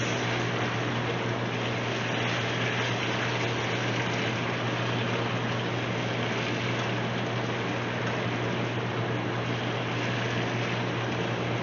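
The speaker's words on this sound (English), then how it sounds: "We're just going to let this simmer for about another maybe 2 minutes." Seasoned taco beef simmers in a pan with a steady, even sizzling hiss and a low hum underneath, holding constant and unbroken for the whole stretch.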